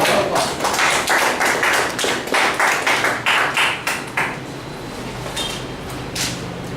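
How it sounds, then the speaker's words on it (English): Toastmasters evaluation session audience applauding, with steady close clapping from a modest group that builds and then fades after several seconds. "round of applause"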